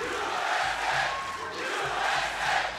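A large crowd roars and cheers at a 3x3 basketball game in Abu Dhabi, a steady swelling wash of voices filling the arena.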